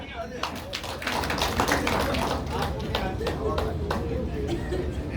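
A room full of people at a motivational game session claps in dense, steady applause, with chatter and voices mixed in throughout.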